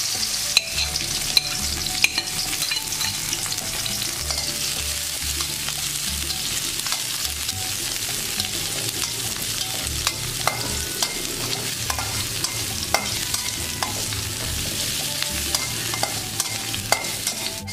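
Shallots and garlic stir-fried in a pan with ginger, a steady close sizzle running throughout with frequent scrapes and clinks of a utensil against the pan, no voices.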